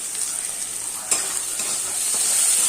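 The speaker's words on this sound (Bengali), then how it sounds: "মশলা দিয়ে এটাকে ভাজি, ভেজে তারপরে জল দেবো।" Meat fries in a pan with spices including meat masala, cumin, coriander and Kashmiri chili powder, giving a loud steady close sizzle with a brief scrape of stirring, and no talk.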